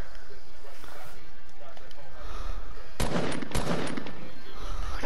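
Fortnite in-game gunfire erupts in a couple of sharp, loud bursts in the second half, following a quieter stretch of faint game ambience during a match.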